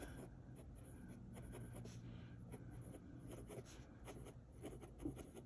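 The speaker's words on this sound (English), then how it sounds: "I'm just going to use my Pilot Kakuno to write down the names." Pilot Kakuno fountain pen with a black cartridge writing names on paper, faint continuous scratchy strokes with short pauses between words, close and quiet, no talking.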